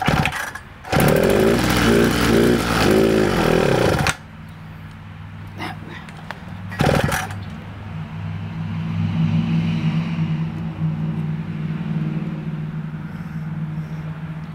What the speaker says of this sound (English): I think it actually ran off the carburetor that time.